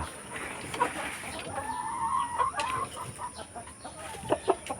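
Native chickens cluck on a farm, several birds calling in short irregular bursts at close range, with a longer sustained call in the middle and no talking.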